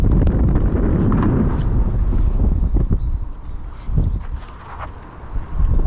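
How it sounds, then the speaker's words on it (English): Strong outdoor wind pounds the microphone in loud, low rumbling gusts that roar almost nonstop, easing briefly near the end before surging again, with no clear talking. "The wind is like so intense and stuff like that."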